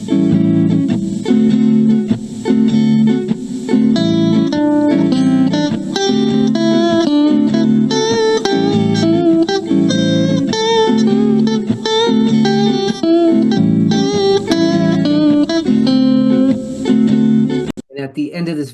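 Guitar plays a busy, rhythmic line over a two-bar shuffle groove in 5/4 with jazz phrasing, with steady accented chords and notes running continuously at a fairly loud level before cutting off near the end.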